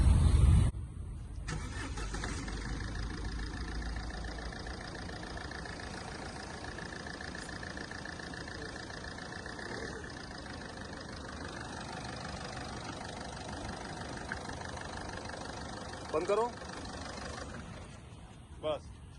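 A 2014 Ford Figo diesel car engine cranks and catches with a loud burst at the start, then settles into a steady, low diesel idle that runs throughout, with brief knocks and rattles near the end.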